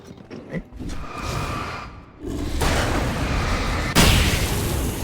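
Explosions in the PC game Alan Wake, loud deep booms and bursts with a rumbling roar that builds, then a sharp blast near the end, with no speech.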